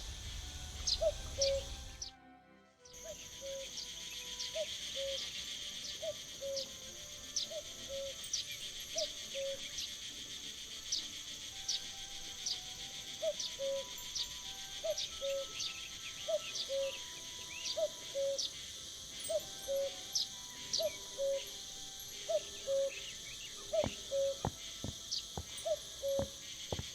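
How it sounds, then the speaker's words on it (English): In the video game The Night of the Rabbit, a cricket inside a barrel chirps: regular high chirps repeat steadily over a faint constant hum, with a few louder clicks toward the end; no voices. "I think I can hear a cricket chirping in the barrel."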